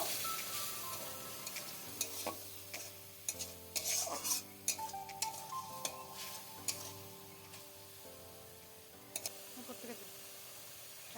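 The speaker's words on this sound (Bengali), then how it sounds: "তারপর সব কিছু বেশ ভালো করে একবার মিক্স করে নেব।" Chana masala with tomato paste is stirred in a frying pan: a spatula scrapes and taps the pan repeatedly, close and fairly quiet, alongside a low hum with music-like tones underneath.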